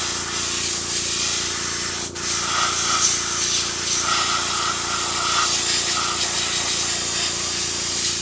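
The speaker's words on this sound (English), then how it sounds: "See, it's not hard to airbrush." An airbrush sprays paint onto a 3D-printed alligator, giving a close, steady hiss that dips for a moment about two seconds in, then carries on.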